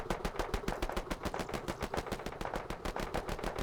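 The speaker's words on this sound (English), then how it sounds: "You can stop shooting, though. Don't shoot at our own guys." Rapid automatic gunfire from the War Room - Afghanistan video game rattles in a dense, continuous stream of sharp, evenly spaced shots. The bursts are loud and sustained, with no talking.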